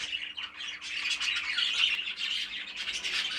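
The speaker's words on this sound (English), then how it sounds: "let's have a look then at these Budgerigar breeding birds." Budgerigars squawk and chatter continuously, a dense, shrill flock of overlapping calls close by with no pauses.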